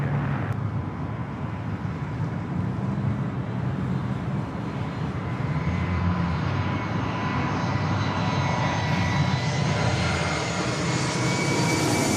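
An Emirates jet airliner at Los Angeles airport makes a loud, continuous engine roar that stays close and steady throughout, with a faint higher whine building toward the end.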